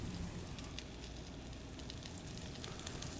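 Croque madame sandwiches of crispy toast finishing in a Le Creuset pan give off a steady, quiet sizzle and crackle, an even hiss with small pops scattered throughout and no voices.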